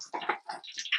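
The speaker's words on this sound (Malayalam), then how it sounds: "ഇനി നമ്മൾ കടുകിടുകയാണ്." Mustard seeds splutter and pop in hot coconut oil for a Kerala potato koottu curry, a quick cluster of bright crackles and snaps close by, with no talking.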